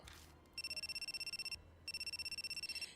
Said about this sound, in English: someone's cell phone starts ringing shrilly